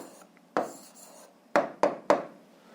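A pen writes down the answer to a grade 7 algebra exercise: several short, dry scratching strokes come in separate bursts, close and fairly quiet, with no speech.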